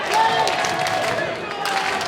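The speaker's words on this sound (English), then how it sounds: "You could hear that Terminator-style clap, that rhythm coming from the crowd here at PCW Ultra" A wrestling show crowd at PCW Ultra claps together, a broad wash of applause with a pulsing rhythm that swells and dips, mid-distance and fairly steady.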